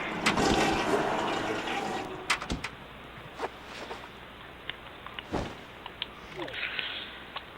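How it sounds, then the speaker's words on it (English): A toilet flushes in The Sims Bustin' Out video game, a rushing watery swirl over the first two seconds that fades into quieter game ambience with a few sharp clicks and knocks. "flush that toilet, and then go to bed"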